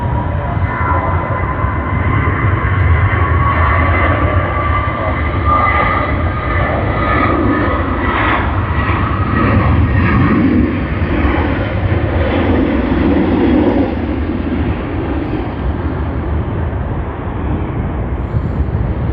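A Virgin Australia airliner departs Sydney Airport, its engines producing a steady, loud, broad roar that holds throughout with a slowly shifting tone, no speech over it.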